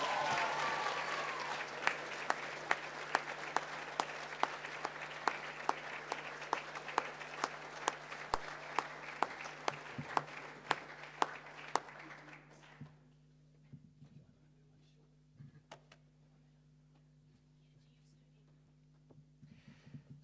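Audience applause at a 2021 Waiopehu College senior prize giving, honouring the deputy head students; steady clapping with sharp individual claps fades out after about 12 seconds, leaving a quiet hall with low hum.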